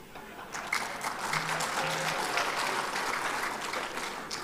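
Audience applause at an open political dialogue, a sustained wash of clapping from a crowd lasting several seconds, fairly close and even in loudness.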